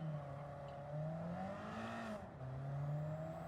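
A car engine in Gran Turismo 7 drones steadily at high revs, pitch gliding up and down as it accelerates, with a brief dip before surging again; loud and close, no talking.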